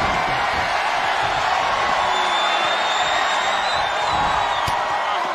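A packed wrestling arena crowd roars continuously and loudly at a women's match, a dense wall of cheering and whooping with a few higher shouts and whistles rising above it.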